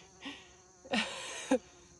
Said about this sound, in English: look at this bee. He's like spread eagle, face in the flower.